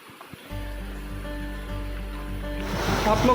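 Rainwater streaming down from the mountains on a rough Uttarakhand trek in Chamoli makes a quiet start, then a steady, close rushing flow that swells slightly toward the end.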